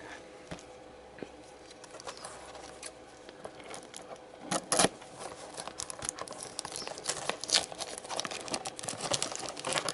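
Foil wrappers of Yu-Gi-Oh! Legendary Duelist Season 2 card packs crinkle and tear close up, soft rustling building into sharper ripping bursts, with no talking.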